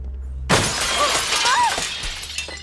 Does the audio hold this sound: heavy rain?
no